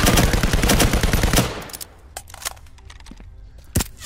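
Video game gunfire: a dense, loud burst of rapid automatic shots that cuts off midway, followed by scattered single cracks and short bursts, some nearer and some more distant.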